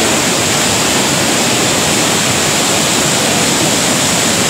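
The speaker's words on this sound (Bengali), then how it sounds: "বাঁধ দু টুকরো হয়ে গেছে, দুভাগ হয়ে জল যাচ্ছে।" Floodwater rushes through a breach in a river embankment in West Medinipur and spills over a football ground, a loud, steady, close roar of turbulent flow with no voices.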